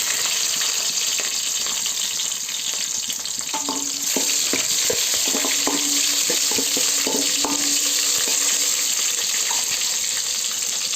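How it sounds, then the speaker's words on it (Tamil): Chopped onions fry in hot oil with fenugreek and curry leaves for a fish curry, a steady close sizzle with faint stirring clicks throughout and no talking. "பொரிஞ்சு நறுக்கி வச்ச வெங்காயம்,"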